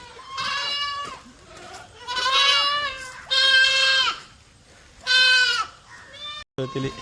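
Malabari goats on a farm bleating loudly in several long, wavering calls, with short pauses between them and no talk.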